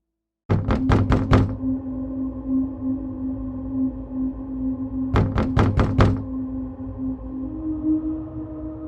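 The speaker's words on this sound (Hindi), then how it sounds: "दरवाजे पर दस्तक होती है।" Two quick sets of sharp knocks rap on a door, four raps then a pause and four more, loud and close over a low, steady eerie drone.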